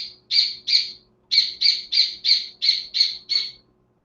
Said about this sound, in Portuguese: Acho que tem um passarinho aqui dentro da minha cozinha.